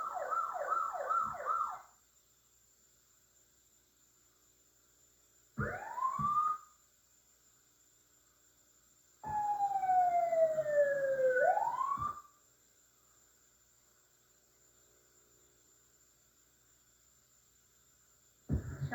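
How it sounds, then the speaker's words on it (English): Fire engine sirens from Shelburne Fire Department pumpers in a 1991 exhibition parade sound in separate loud bursts: rapid yelps, a rising wail and a long sweeping tone, with quiet gaps between them. "Shelburne Fire Department engines now going by"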